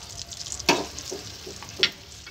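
Cashew powder frying with yogurt for a fish kofta curry gives a soft crackling sizzle, broken by two sharp spoon scrapes against the pan and lighter stirring knocks between them.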